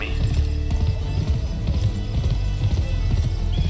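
Horse hooves galloping in the video game GUN, a steady rapid clip-clop over a low rumbling game soundscape, close and continuous.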